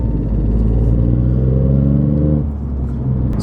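Loud, droning exhaust from a Ford Fiesta MK7 with the 1.0L EcoBoost three-cylinder, heard from inside while driving, a steady engine rumble that holds and then dips briefly partway through.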